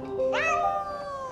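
A cat meows once in the video game Fate: Memories Retold, a clear, close rising-then-falling cry over soft game ambience.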